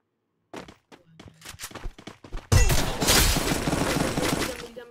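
Gunfire in a shooting video game landing a headshot: a scatter of sharp, separate impacts, then a loud burst of shots and shattering debris that rings out densely to the end.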